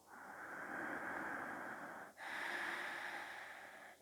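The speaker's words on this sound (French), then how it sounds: "à l'expiration, on expire bouche fermée par le nez" Audible ujjayi-style yoga breath during an Ashtanga practice, exhaled through the nose with the mouth closed: two long, close, breathy rushing exhales separated by a brief pause, loud and airy, with no speech.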